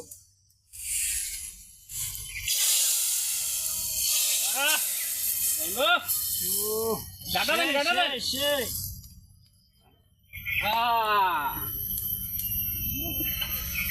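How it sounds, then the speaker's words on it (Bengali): Spices for a khichuri tempering hit hot oil with a loud, bright hiss and crackle at the start. Then a voice talks at length over a lower, fading sizzle. "এখন আমরা ফোড়নটা দিয়ে দেব"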